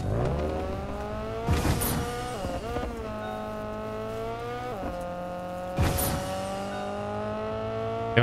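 A car engine in a video game revs and shifts through rising and falling pitches, with two sharp tire squeals or skids punctuating a steady close drone.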